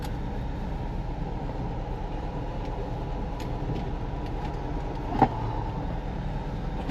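A car engine idles in a garage with a low, steady rumble, close and unbroken, marked by one brief sharp click partway through.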